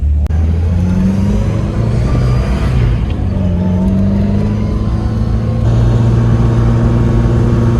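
A three-door car's engine drones loudly and steadily from inside on a race track, its pitch rising and falling as it revs and shifts through gears.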